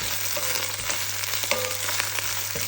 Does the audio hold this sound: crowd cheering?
no